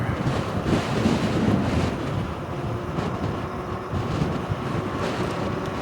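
Strong, steady wind buffeting the microphone while riding an e-bike outdoors in cool low-50s weather, a loud continuous rumble and roar that swells and eases slightly, with no speech.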